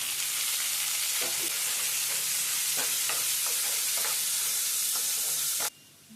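Steady loud sizzling of onions and tomatoes frying in a pan for omelette gravy, with occasional scraping stirs, ending abruptly.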